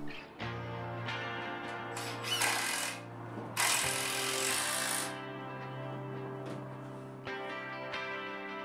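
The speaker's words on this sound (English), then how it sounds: "I'm attaching the runs with just one screw at the side" A power drill or driver sinks a single screw to fix a wooden run to the side of a loft ladder for a tiny house or shepherd's hut, whirring in a few bursts with brief pauses.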